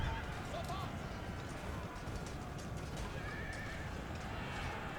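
Horses neigh and gallop with clip-clop hoofbeats amid a dense, continuous battle din in the Empire Total War video game, steady and loud throughout, with a voice talking over it.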